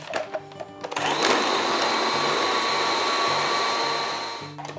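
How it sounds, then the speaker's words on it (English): Food processor whizzing a choc 'n' nut cookie mixture with caster sugar and salt, a loud continuous motor whir starting abruptly after a few clicks and winding down near the end. "I'm going to whiz this until the mixture binds together"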